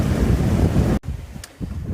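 Strong wind buffets a sailboat at sea under sail with the engine off, a loud, steady rush of gusty noise with a brief dip and a short hissing flutter partway through.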